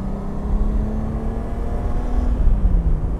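A Honda Goldwing motorcycle engine pulling under throttle, a steady low droning hum that rises slightly in pitch, heard close and continuous with wind noise.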